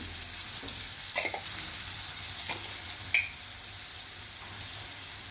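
Spices frying in oil for bagara rice: a soft, steady sizzle with a few scattered clicks and spoon scrapes, fairly faint and without speech.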